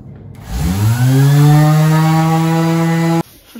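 A power tool cuts through iron on a caravan under repair, spinning up quickly into a loud, steady high-pitched whine that holds for about three seconds before stopping abruptly, close by.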